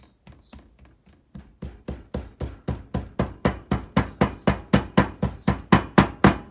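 Casting sand is tapped down around a ring mandrel for a red clay sand-casting setup, producing a steady series of sharp taps that start soft and grow louder and more regular, about three per second, close up and alone.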